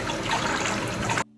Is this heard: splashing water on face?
yes